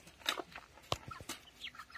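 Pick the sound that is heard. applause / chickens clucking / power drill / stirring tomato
chickens clucking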